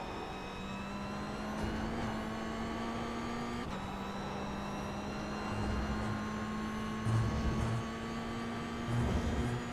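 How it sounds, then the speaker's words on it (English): A Toyota GR86 race car in iRacing approaches at speed, its engine a steady droning whine that slowly climbs in pitch, with a brief gearshift dip, under continuous road and wind noise. "Faster car coming up quick."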